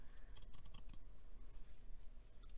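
Gingher fabric scissors, about five years old and now used on paper, give a quick run of crisp snipping cuts near the start, then steady cutting and rustling close up against a constant low background hum.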